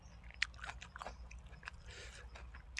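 Close, crisp crunching and wet chewing of a spicy Isan-style squid tendon salad with fresh vegetables, with irregular bites and quiet mouth sounds, faint and intimate.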